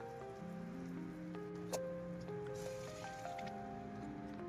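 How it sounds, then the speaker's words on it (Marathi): Steady watery hiss and sizzle of hot water hitting a hot pan of dhaba-style mixed vegetable curry, continuous throughout with a faint clink midway, close and moderately loud over a low background hum. "यात मी गरम पाणी घालणार आहे"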